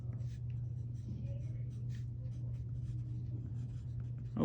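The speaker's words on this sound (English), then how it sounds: "I'm just going to write it again." A pen scratches steadily across a surface while a quadratic equation is written out, soft continuous strokes over a low steady hum.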